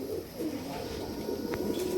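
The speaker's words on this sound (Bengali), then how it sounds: "এই যে একটা কবুতর ছাড়ি, এগুলা ভাই সিলভার ব্লাড লাইনের কবুতর" Silver bloodline pigeons in a loft giving faint, low throaty coos under a constant background hum, with a brief sharp sound partway through.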